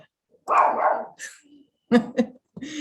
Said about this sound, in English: my dog is barking at the mailman